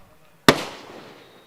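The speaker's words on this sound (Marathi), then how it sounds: "त्यांचं स्वागत या फटाक्यांच्या आतिषबाजीमधून आपण करतोय" A single firecracker bursts with a sharp, loud crack at a cricket match, then its echo trails off for about a second against a quiet background.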